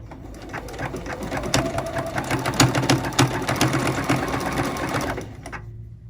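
Close, steady hum of a sewing machine stitching a quilt binding, with rapid needle ticks running for about five seconds before it stops.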